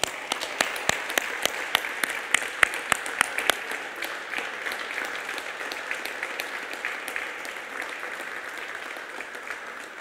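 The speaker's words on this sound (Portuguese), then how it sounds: "Vamos dar uma salva de palmas para Jesus?" Applause from a church congregation during a Portuguese-language communion service, sharp individual claps at first, settling into steady sustained clapping that gradually fades.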